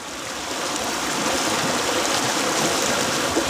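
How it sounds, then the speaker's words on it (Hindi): Fast, heavy river current of the Ganga at Triveni during flood season, a dense steady rushing roar of water filling the whole stretch without a break or any voices. "एक बार ज़रा गौर से सुनिएगा कि ये धार का जो बहाव है वो कितना तेज है"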